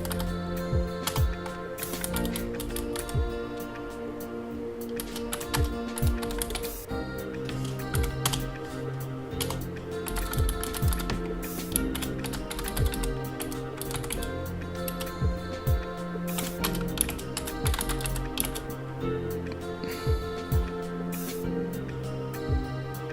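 Typing on a computer keyboard while following a Godot 4 game engine tutorial, steady clicking under continuous background music with many harmonic layers, the keystrokes mostly buried in the mix.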